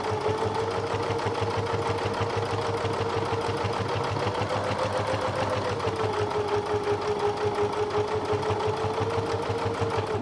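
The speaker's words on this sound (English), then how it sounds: "Stitching all the way down this edge." A domestic sewing machine runs steadily, stitching down the edge of a quilt during binding, its fast mechanical whir holding a continuous rhythm at close range throughout with no talking over it.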